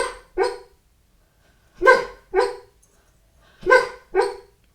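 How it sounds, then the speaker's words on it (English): A sleeping dog dreaming gives three pairs of short, muffled woofs, each pair spaced by a second or so of quiet, close to the microphone. "that's my dog. She's dreaming."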